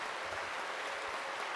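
A church congregation applauds during a Korean worship service, making a steady, soft, somewhat distant patter of clapping with no talk.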